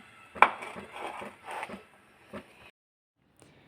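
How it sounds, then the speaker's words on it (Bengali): Flattened rice (chira) being mixed with curd by hand or spoon, giving a few soft, close squelching and scraping strokes that trail off into near silence. "সকালের চা হচ্ছে এই যে চিড়ে দই মাখছি"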